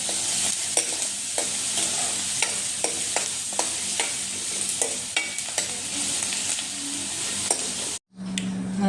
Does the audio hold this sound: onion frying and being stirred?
yes